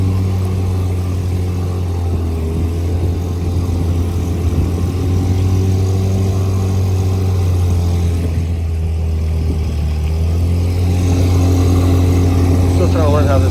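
Evinrude 5.5 outboard motor running at full throttle on a lake, a loud, constant buzzing drone with a steady pitch throughout, close by and uninterrupted.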